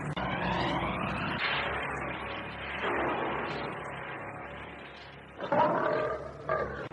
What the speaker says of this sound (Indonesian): Tidak biasa harimau mendekat kemari, apalagi meraung panjang seperti itu.